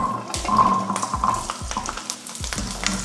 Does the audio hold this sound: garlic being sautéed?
yes